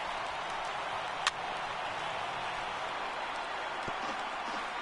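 A baseball stadium crowd of over 39,000 in the game MLB The Show 18 stands and cheers, a steady broad roar of noise at moderate level, fairly even with little variation.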